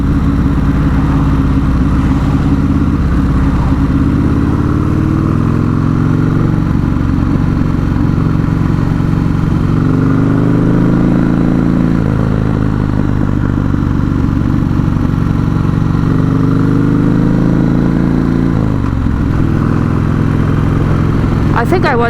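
Steady engine drone of a custom Buell S1 Lightning motorcycle while riding, a continuous loud rumble with small shifts in pitch under the rider's ongoing talk.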